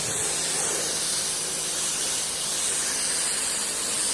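A spray gun sprays 2K primer in a steady, loud, continuous hiss of atomized spray without pauses.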